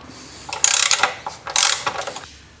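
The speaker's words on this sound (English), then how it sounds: "With a 9mm Allen wrench, let's loosen up the pinch bolt." A 9mm Allen wrench turns a pinch bolt on a Yamaha FJR1300 motorcycle front end, making two close, short bursts of metallic ratcheting clicks, each lasting about half a second with a pause between.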